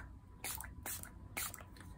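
Three quick hisses of water from a spray bottle misting slanted watercolor paper during a cloud painting session, each burst short and close, evenly spaced with quiet gaps between.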